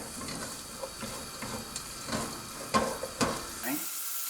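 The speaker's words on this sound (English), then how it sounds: "get those frying a little in the olive oil, so medium-high heat" Something frying in olive oil over medium-high heat gives a soft, steady sizzle with a few sharper crackles and stirring knocks, fairly faint and close, ending abruptly.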